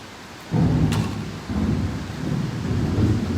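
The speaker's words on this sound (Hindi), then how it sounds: "बहुत तेज बारिश है आज, बिजली गरज रही है यहाँ पे।" Thunderstorm with heavy rain, a sharp crack and rolling rumbles of thunder over steady, close downpour, loud throughout with no talking.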